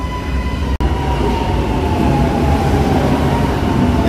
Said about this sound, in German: Mit dem fahren wir jetzt zum Dom in Italien mit einem Metro.